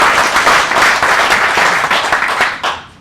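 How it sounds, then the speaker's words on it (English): Audience applause at a live leadership speaking event rolls on loud and steady, then thins out and fades toward the end. "Give a big round of applause and thank you to Mr."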